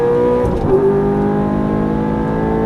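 A Ferrari F430 or Nissan GT-R on a track pulls hard after an upshift: the engine's droning tone dips at the gear change, then climbs steadily and loudly, heard close up.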